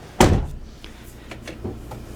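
A Mercedes Sprinter van door on a 2024 Storyteller Stealth overland camper closes with one solid, close thud, followed by a few fainter clicks and rattles as it settles.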